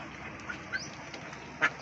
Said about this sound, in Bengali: হাঁস রয়েছে ভিতরে